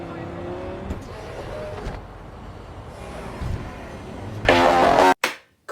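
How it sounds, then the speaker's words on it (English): A speeding car in the futuristic video game Cyberpunk 2077, heard as steady engine drone with harmonic whine, a louder burst near the end, then an abrupt cut and brief restart. "take a look at this guy jumping out of a speeding car and facing no repercussions"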